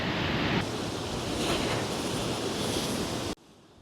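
Sea waves breaking on a rocky shore while fishing for large white sea bream in the foam, a loud, continuous roar of surf and spray close by that cuts off abruptly near the end.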